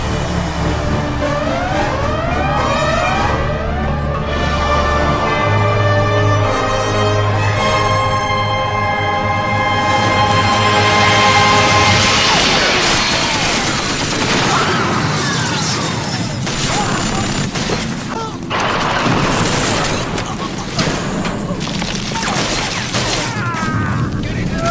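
Gunfire erupts in a Warhammer game cutscene: a dense, loud fusillade of booms and crashes layered over a rumbling score, with shouted voices and mechanical clatter throughout.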